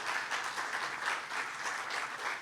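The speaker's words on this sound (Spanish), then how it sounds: "Denle un aplauso al Señor," A church congregation applauds during a Spanish-language sermon, a steady wash of many hands clapping at even loudness throughout, with no voices over it.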